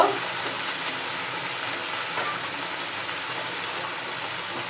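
Ayr fish sliding into a hot pan of frying onions, giving a steady, even sizzling hiss that stays loud and close throughout with no pauses or talk.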